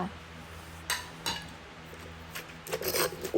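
A pestle pounds toasted rice and chopped herbs in a mortar for a Thai bamboo-shoot soup with mackerel. A few scattered knocks and clinks are heard, then a quicker burst near the end, while someone talks.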